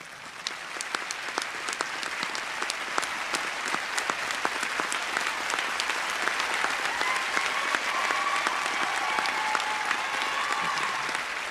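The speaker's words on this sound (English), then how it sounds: "we can give you all each a round of applause" An audience gives sustained, lively applause for standing essay contest finalists at an evening ceremony, with crisp individual claps over a broad crowd wash and light murmuring underneath.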